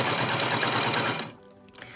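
A sewing machine runs a straight, back-tacked seam down a fabric face mask, stitching steadily and close for over a second before stopping, followed by faint handling noises.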